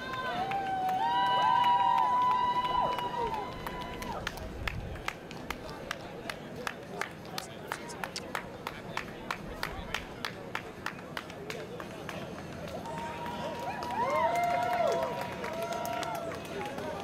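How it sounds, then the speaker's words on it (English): Spectators cheer and clap for relay runners at the Hudson Relays, a distant crowd sound behind steady rhythmic footfalls, with a commentator talking over it. "all the applause and cheers"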